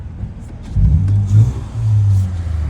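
An Acura TL with a new exhaust revs nearby, giving a deep, rumbling, mid-pitched engine note that swells twice over a steady idle, with no voices.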